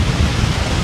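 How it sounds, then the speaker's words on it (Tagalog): Heavy rain pours down in a thunderstorm, heard from shelter during a motorcycle ride, a steady dense roar with deep low rumble throughout the short moment and no voices. "Kasi naabutan tayo ng ulan."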